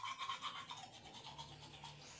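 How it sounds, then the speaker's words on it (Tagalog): A toothbrush scrubbing in quick, soft rhythmic strokes, close and faint, with no talk. "Toothbrush."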